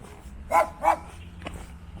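A dog gives two hoarse, raspy barks in quick succession at close range, followed by a fainter short sound amid light background noise at a trail hostel.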